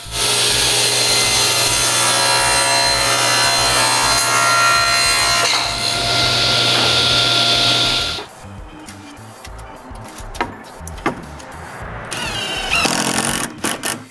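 A power saw cuts through the last wooden soffit piece at a 29.5-degree angle in a workshop, a loud steady whine for about eight seconds, then winding down into scattered clatter and rubbing of wood.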